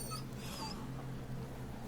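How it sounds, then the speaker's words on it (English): Soft, brief dog whimper from the video game Dragon Age, a faint high whine early on over a steady low game hum, with no talk. "There's a dog over here."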